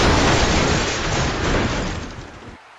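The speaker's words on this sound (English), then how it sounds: "BurgerBot has unleashed the orbital cannon!" An orbital cannon blast in a robot battle event, one loud, broad explosive roar that fades over about two and a half seconds, with no talk.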